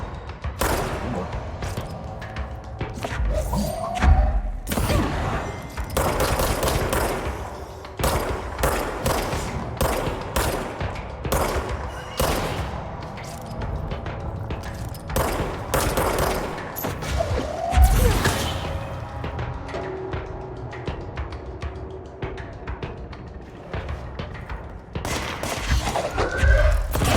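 Heavy sniper and rifle fire rings out in the game Control, with repeated loud sharp shots, bursts and crashes coming in dense volleys through the whole stretch, broken by short gaps.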